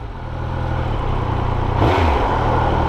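A Triumph Speed Triple 1200 RS motorcycle engine idles loudly up close, then revs up and winds back down unusually slowly.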